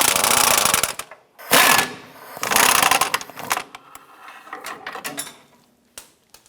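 Metal clatter and ratcheting from a 15mm swivel socket wrench with extensions working the rear engine mount bolts on a 1994-2004 Chevrolet S10, heard in loud, broken bursts with quieter clicks between, no talk.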